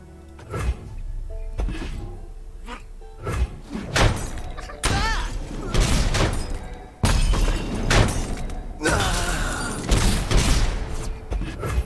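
Loud bursts of gunfire in Legends of Runeterra crack and boom in repeated volleys, mixed with heavy thuds and shattering impacts, filling the scene with chaotic combat noise.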